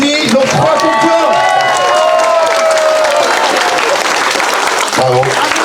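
Audience applause at an aioli competition in Saint-Mandrier, steady and loud clapping mixed with crowd voices and cheers for about five seconds, with talk rising near the end.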